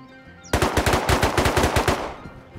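Rapid automatic gunfire in the Rust video game, a dense burst of about a dozen sharp, loud shots over roughly a second and a half, close and alone without talk.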